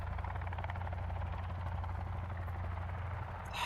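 A helicopter in the video game Sons of the Forest thrums steadily with a low, pulsing rotor beat and a constant engine drone, close and loud, with no talking.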